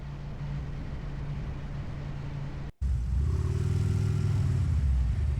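A Harley-Davidson Road Glide with a 26-inch front wheel rides along with steady engine rumble and wind noise, a brief dropout midway, then a deeper, louder pull as the bike accelerates.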